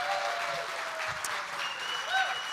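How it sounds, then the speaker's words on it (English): Applause from the audience at the close of a Nerd Culture Ministry Summit morning session, a moderate, even spread of clapping with faint voices and a few brief tones mixed in. "now you can clap"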